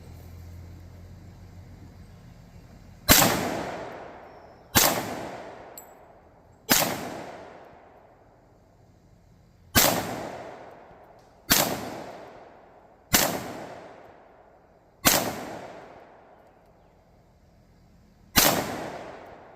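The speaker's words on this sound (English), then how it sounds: "we'll go downrange and see the results of Mrs. Belikov firing" Eight sharp pistol shots from a Remington R1S 1911A1 at a shooting range, spaced roughly one to three seconds apart, each loud crack trailing off into a short decay, with no voices.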